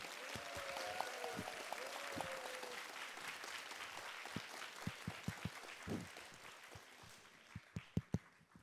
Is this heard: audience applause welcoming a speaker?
yes